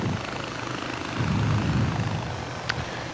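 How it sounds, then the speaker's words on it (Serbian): Helicopter in the video game Far Cry 4 flying with a steady low rotor and engine drone. The sound swells briefly midway, and one faint high click comes near the end. "sada ćemo malo se vozimo helikopterom i da izvršavamo misije"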